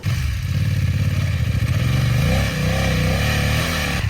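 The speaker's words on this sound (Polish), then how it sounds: "Gaz, gaz, gaz, gaz, gaz, gaz, gaz, dużo gazu." A BMW F 900 motorcycle engine revs hard off-road in the desert, a close, loud, throbbing exhaust that rises and falls in pitch as the throttle is worked.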